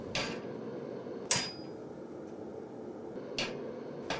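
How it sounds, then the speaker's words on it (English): A hammer strikes hot steel in four sharp, ringing blows spaced irregularly while forging an animal head, heard against a low steady background rumble. "be constantly using the hammer to dress up the face"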